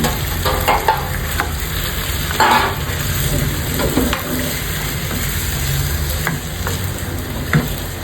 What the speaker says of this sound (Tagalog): Once okay na yung ating onions and garlics, pwede na natin ibalik yung ating na-sear na chicken.